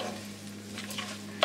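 Cauliflower is stirred into a sizzling onion and spice mixture in hot oil, giving a steady close frying hiss with soft scraping of a spatula and a small clack at the end.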